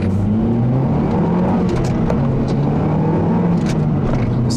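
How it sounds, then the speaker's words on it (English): A 2008 Mazdaspeed3 with turbo and blow-off valve pulls hard under way, its engine drone steady and loud, with faint high whistle and brief hissy bursts riding over the constant road and engine noise. "it has that very nice boost, that turbo whistle noise from that blow-off valve"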